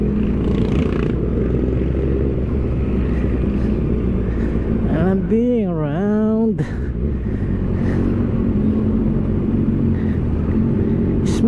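A 2020 Kawasaki ZX-6R inline-four motorcycle engine revs up sharply in a rising and falling sweep, loud and close, with engine noise and a voice around it.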